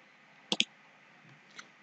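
Computer mouse clicks on a PC, a quick close double click followed by a fainter single click against a quiet background.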